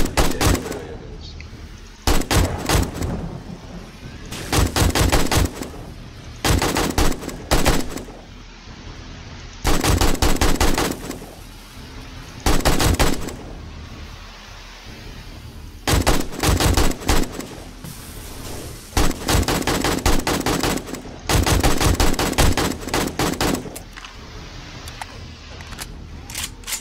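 Gunfire in the game 7 Days to Die during a horde night: repeated bursts of rapid automatic shots in clusters, loud and close, separated by short quieter gaps with some background noise.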